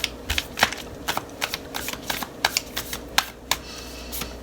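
Oracle cards being shuffled by hand at close range, a run of crisp, irregular riffling slaps and flicks with short pauses between them.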